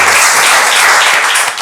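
A game show audience applauds loudly, a dense continuous wash of clapping that tapers slightly at the end.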